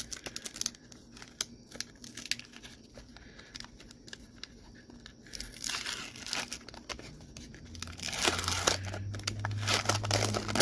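Crinkly plastic wrappers of 1993 Panini baseball sticker packs being torn open, with steady crackling and ripping close up that grows denser and louder toward the end, no voices.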